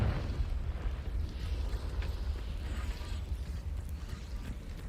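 A Confringo fire spell blasts in the Hogwarts Legacy game, a deep, steady roaring rumble that holds at one loudness for several seconds with no sharp single bang.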